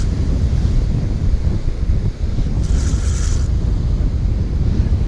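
Strong wind buffets a winter fishing beach, a steady loud roar mixed with surf, with a brief higher gust partway through.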